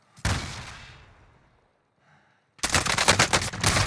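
Automatic gunfire crackles in a battle royale video game, with one sharp burst fading out, a short quiet gap, then a second loud rapid burst.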